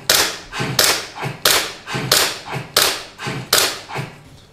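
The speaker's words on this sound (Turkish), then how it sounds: "Şimdi istersen ben hemen bir hızlıca atış yapayım" Quick, evenly spaced sharp pops from an airsoft pistol firing a rapid string of about seven shots at an indoor range, loud and close with short decays between them.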